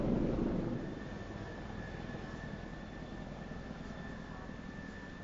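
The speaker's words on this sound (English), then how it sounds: "Miami-Dade Air Rescue has two 412 helicopters." Two Miami-Dade Air Rescue Bell 412 rescue helicopters idle with a steady broadband rotor and turbine rumble, louder at first then holding constant, no voices over it.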